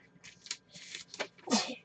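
A person sneezes in a quiet room: a few short, sharp bursts, one loudest near the end, close and fairly soft.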